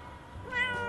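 A house cat gives one short meow, close and fairly soft, rising briefly before cutting off.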